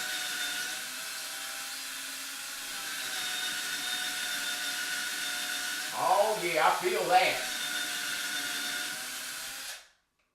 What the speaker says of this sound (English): Go ahead and get it drilling all the way through that stud.